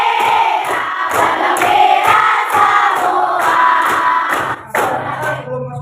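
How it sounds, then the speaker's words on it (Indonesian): A classroom group sings the Indonesian national song Sorak-Sorak Bergembira together, loud and close, with a steady rhythmic pulse of voices and brief dips between phrases. "lagu nasional kita adalah sorak-sorak bergembira ya. Kita nyanyi bareng ya."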